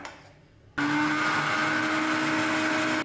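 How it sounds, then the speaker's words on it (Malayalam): A mixer grinder blends ripe nendran banana for halwa, starting abruptly after a quiet moment and running as a loud, steady whirring drone until it cuts off. "ഇത് അടച്ച് നമുക്കിതൊന്ന് അരച്ച് കൊണ്ടുവരാം"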